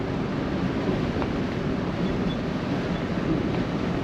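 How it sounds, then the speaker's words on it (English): Wind roars in a continuous low rush inside a 1957 Cadillac Eldorado Biarritz convertible cruising at 55 mph on a breezy day, steady with no speech. "It's a little breezy out today, and we're doing 55 miles an hour, and it's a nice, quiet ride, but for a little bit of wind noise"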